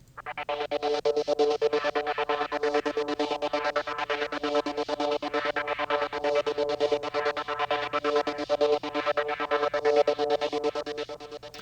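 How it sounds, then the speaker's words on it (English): A rapid, rhythmically chopped trance synth bass line made in Ableton, pulsing steadily, with tight stuttering gated notes repeating evenly throughout. "The gate bass line essentially sounds like this."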